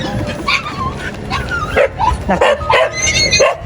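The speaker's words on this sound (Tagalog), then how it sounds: "May aso ka po?" A dog barks and yips in a quick run of sharp, close barks mixed with whimpering, outdoors at a house, and a person says a word at the start.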